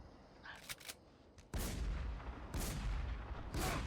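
Barrett sniper rifle fire in the WarZ shooter game: three or four heavy, booming shots about a second apart, loud and close, with lighter cracks just before them.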